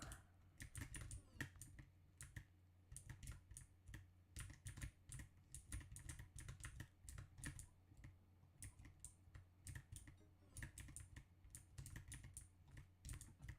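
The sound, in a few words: computer keyboard typing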